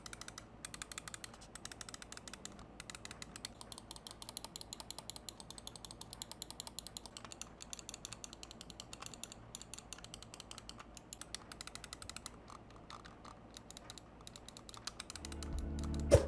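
Rapid clicking and ratcheting of a Fantech Heli wireless gaming mouse's switches and scroll wheel, dense and steady throughout, close and fairly quiet, with a louder thump at the very end.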